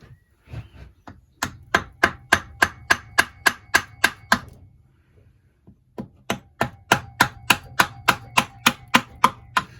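Honda ST50 engine cases are tapped apart to split them. About a dozen sharp, evenly paced metallic knocks ring out close by, then stop for a moment before a second run of similar rhythmic taps.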